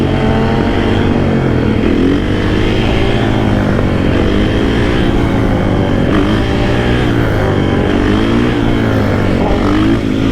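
A supermoto motorcycle ridden through city streets, its engine droning loud and steady under load for the whole stretch, with a continuous rough buzzing tone and wind noise.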